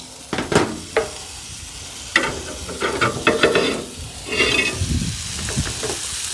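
Steak in a skillet inside a hot Big Horn Outdoors 12-inch woodfire pellet pizza oven: a moderate crackling sizzle mixed with irregular scraping and knocking as the pan is handled, close by.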